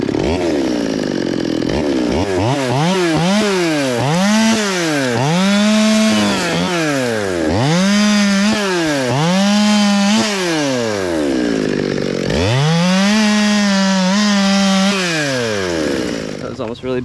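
A chainsaw cuts through wood, its engine loud and close, revving up and down in repeated surges as the chain bites, with a voice heard over the noise.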